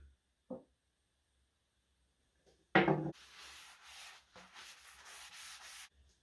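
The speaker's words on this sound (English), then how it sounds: "It's now time to apply the Danish oil, make it look pretty." A cloth rubs Danish oil onto a sanded wooden mask in a loud burst followed by a few seconds of steady close-up scrubbing, after a near-silent start with one brief knock.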